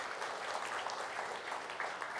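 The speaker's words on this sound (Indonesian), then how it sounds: "Mari kita memberikan tepuk tangan" Audience at a church Christmas celebration clapping to welcome guests from various churches, a soft, steady patter of many hands heard from a distance and fairly faint throughout.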